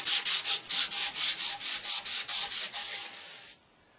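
Sandpaper is worked across the commutator of a Chevy starter in about a dozen quick, evenly spaced strokes, close and crisp, then stops abruptly, with no voices.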